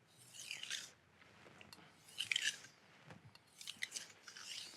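Kitchen knife worked on a wet 1000-grit whetstone with lighter pressure, giving quiet repeated gritty scraping strokes at close range, three main bursts with softer strokes between.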